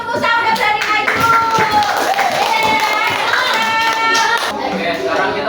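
Children in an elementary school classroom clap together for a classmate, a steady rapid patter of many small hands close by, with a tonal voice or music line sounding over it throughout.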